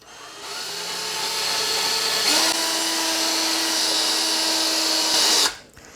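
A power polisher fitted with a felt pad buffs a stainless steel pan, its motor whine rising and holding at a steady loud pitch close by, then cutting off near the end.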